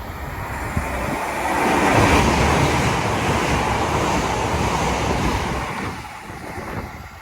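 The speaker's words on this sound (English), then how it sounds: "Train now zooming past is a class 800 Eastbound Express service to" A Class 800 express passenger train, an eastbound service to Newcastle, speeds past close by at St Helens Junction. It comes as a broad rushing roar that swells quickly, holds for several seconds, then tails off, with wind buffeting the microphone.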